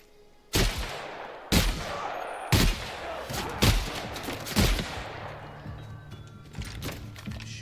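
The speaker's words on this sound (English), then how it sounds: "Get several good shots off" Loud single gunshots from The Outer Worlds video game, about six sharp blasts roughly a second apart, each with a booming echoing tail, then quieter rumbling game ambience.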